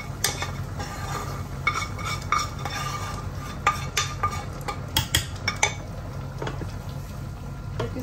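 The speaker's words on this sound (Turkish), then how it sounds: "Güzelce karıştırın." Utensils clink and scrape against a pot while meat cooking in a little added water is stirred, a steady low simmering bed under scattered sharp metallic taps, close and moderately loud.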